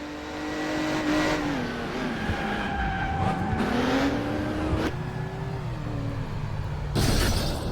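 Crash Time 3 video game car chase with engines revving and shifting pitch, tires squealing and skidding, and crashing impacts with shattering bursts, all busy and fairly loud without speech.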